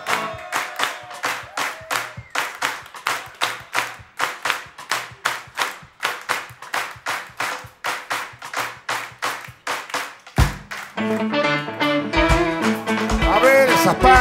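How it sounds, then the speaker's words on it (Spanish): A live concert audience claps along in steady rhythmic unison, loud and evenly paced, before music with sustained tones enters near the end. "A ver esas palmas"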